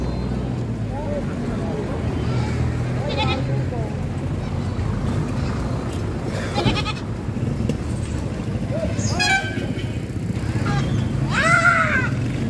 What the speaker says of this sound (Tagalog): Tatlong kambing, oh.